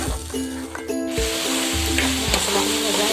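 Coriander and red chili powder spices frying in a pan for a tomato fish curry, a steady close sizzle with scraping stir strokes and light clinks, no talk.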